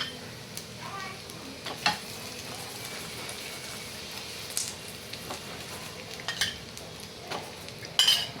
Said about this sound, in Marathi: आपले पराठा दोन्ही बाजूने अगदी छान आपण शेकून घेऊया